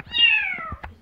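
A kitten meows in one long, high, drawn-out cry that slides downward, followed by a short second chirp, close and clear in a rural village setting.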